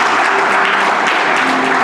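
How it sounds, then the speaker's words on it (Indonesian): A church congregation at a Sunday service breaks into brief, dense applause, loud and close, with the clapping continuing evenly throughout. "Beri tepuk tangan dulu deh."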